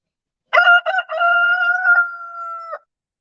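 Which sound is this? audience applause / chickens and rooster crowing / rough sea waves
chickens and rooster crowing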